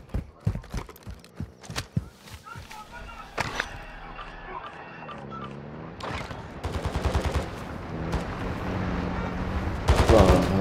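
Gunfire in Call of Duty: Modern Warfare II: sharp separate shots early, then rapid automatic bursts later, mixed with game sounds and voices.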